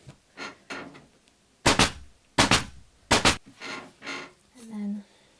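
A staple gun drives staples through upholstery fabric on a footstool in a workroom: three sharp, loud, close snaps spaced under a second apart, with quieter talking before and after.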